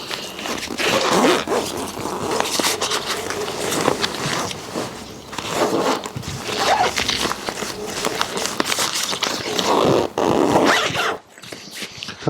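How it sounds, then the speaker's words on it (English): The carry bag of an Alvanta screenhouse is zipped shut, with rasping zip pulls among rustling fabric and handling noises, fairly close and busy. "And now we're ready to zip up."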